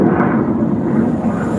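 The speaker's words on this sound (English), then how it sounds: "Listen to these planes." Military jets fly low over Yuma, a loud, continuous roaring rumble filling the whole moment, heavy in the low end with a broad hiss above, close and overhead.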